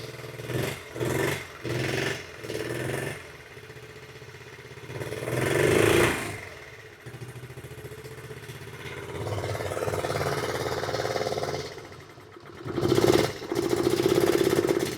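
A 1972 mini bike's small engine runs close by with a rough, uneven idle, broken by several short revving bursts and sputters that rise and fall throughout.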